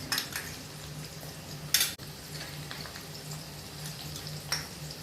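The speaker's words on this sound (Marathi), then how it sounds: "आपण डायरेक्ट आता तिला फोडणी देऊया." Ginger garlic paste fries in hot oil as a tempering for masoor dal, a low steady sizzle close by with a few sharp metallic clinks and stirring scrapes from the pan.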